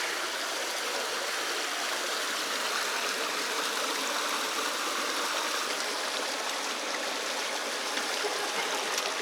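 Water roars as it falls through a canyon on a hiking trail near Moab, Utah, a steady, broad rushing hiss that stays constant and unbroken with no voices.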